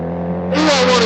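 A motorcycle revs and accelerates up close, its engine note rising steeply and turning broadband halfway through a short burst.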